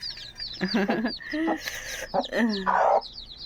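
Newly hatched chicks and a hen call close by: a quick series of high, thin peeps and chirps with lower clucking mixed in, in short bursts across a few seconds.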